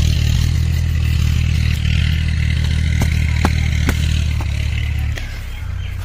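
A heavy tractor engine idles and rumbles loudly and steadily, with occasional metallic clicks and rattles, then the low drone eases slightly near the end.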